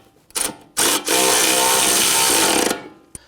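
A power tool tightens the nut on a front upper control arm of a 2004-2008 Acura TL, one loud continuous whirring burst of about two seconds after a few short blips.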